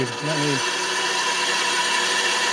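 A small power tool cuts thin aluminum in a steady, loud, high-pitched continuous whine that starts after a brief bit of other noise and runs on unbroken, close by.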